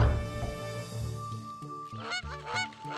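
A goose honks repeatedly, a series of loud, close nasal calls in uneven bursts over a background of sustained musical tones.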